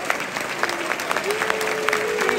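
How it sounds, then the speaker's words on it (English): Football crowd in a stadium applauding, with some boos mixed in: a steady wash of clapping and crowd noise, loud and continuous throughout, with a faint tonal whistle-like line rising midway. "There's some boos, there's some applause."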